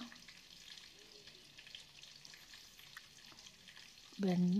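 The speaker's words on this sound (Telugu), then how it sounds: "ఆవాలు, జీలకర్ర కొంచెం వేగాక బెండకాయలు వేసాక కొంచెం వేగిన తర్వాత" Okra frying in oil with mustard seeds and cumin, a faint continuous sizzle with light stirring; a louder tonal burst cuts in near the end.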